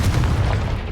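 A Confringo explosion spell from Hogwarts Legacy lands as one short, loud, low boom with a rumbling body that fades quickly.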